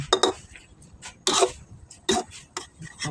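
A metal utensil scrapes and clacks against a pan while dry sukiyaki is stirred, in a few separate near bursts with short quiet gaps between them and no talking.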